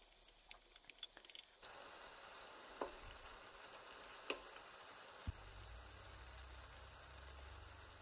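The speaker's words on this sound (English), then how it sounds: "So let's add 100 grams of mince. Sorry, not a kilogram of mince. It's two 500 gram packets of mince. And we'll fry them off and brown them." Two packets of beef mince frying and browning in a pan, a steady soft sizzle and hiss with a few faint clicks of stirring, no talk.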